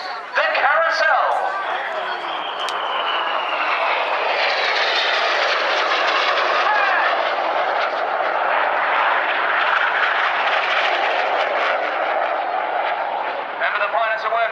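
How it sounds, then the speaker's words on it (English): Display jets roaring overhead at the Southport Airshow as they fly opposing 360-degree 6G turns, a loud sustained jet rumble with a rising and falling whine that swells and passes, with an announcer talking over it. "Here they come with the Titans in opposing 360 degree 6G turns."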